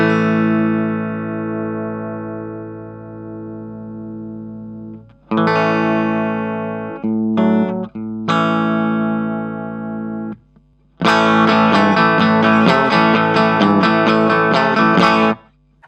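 Clean electric guitar through an amp: sustained chords ringing out, then short strummed bursts, ending with a brisk rhythmic strumming passage, full and close with no vocals.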